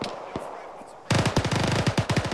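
Automatic rifle laying down suppressive fire in ArmA 3: after a few scattered distant shots, a loud, rapid string of closely spaced bursts erupts and keeps rattling to the end.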